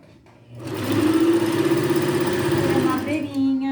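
A sewing machine runs a steady, close straight stitch along the edge of a blouse seam for about two seconds, then slows and stops.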